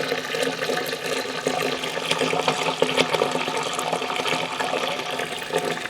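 Hot water pours steadily into a home-brewing pot, about 11 litres, for a four-hop West Coast IPA. The rushing, splashing flow is continuous and fairly close, with no talking.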